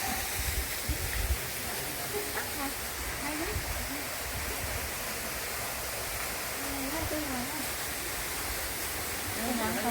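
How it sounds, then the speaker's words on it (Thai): Man-made waterfall at Phu Dan Hai in Kalasin, Thailand, giving a steady broadband rush of falling water that fills the scene evenly, with a few faint voices and birdlike chirps mixed in. "ด้านหน้าก็จะเป็นน้ำตกแห่งน้ำน้ำตก"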